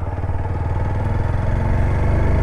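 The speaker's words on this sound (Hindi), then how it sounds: "ये चला रहे भाई जिनकी ये बाइक है रेन मोड अर्बन मोड में करके देखते हैं" A TVS Apache RTR 160 4V motorcycle with a 159 cc engine is ridden in urban mode, its engine throbbing loud and close in a steady, continuous drone.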